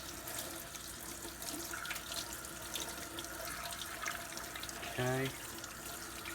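Water runs steadily from a tap, rinsing an engine piston during a KE102 cylinder top-end install, a continuous wash close by with a brief spoken word near the end.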